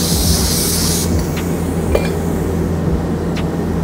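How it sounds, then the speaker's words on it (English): A spray gun sprays paint onto a test card, hissing steadily at close range, with a faint clink or two and a low background hum underneath. "Guys, spraying the card."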